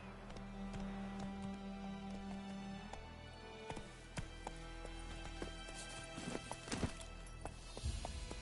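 Horse in The Witcher 3 video game galloping with steady clip-clop hoofbeats and a neigh, over a continuous game music and ambience bed.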